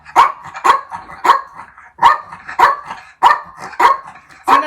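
A dog barks repeatedly and loudly close by, about eight sharp barks in an even, insistent rhythm with short pauses between them and no talk.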